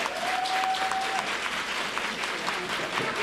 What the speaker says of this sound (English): Crowd quickly getting into this first match